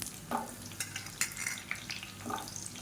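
Small onions frying in a pan for garlic chutney, a soft continuous sizzle with a few stirring scrapes, near and moderately quiet, no one talking.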